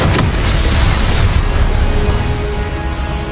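Incendio fire spell in Hogwarts Legacy, a loud, close roaring burst that stays sustained and rumbling for about three seconds before easing slightly, with no talking.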